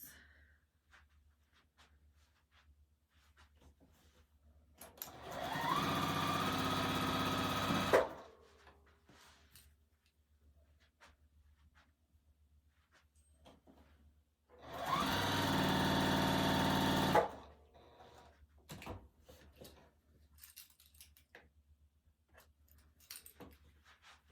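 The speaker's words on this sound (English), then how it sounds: "We'll go ahead and sew the top of those." A sewing machine stitches quilt pieces for a barn-themed quilt top, running in two steady bursts of about three seconds each, separated by a quiet pause, fairly close and with no talk over it.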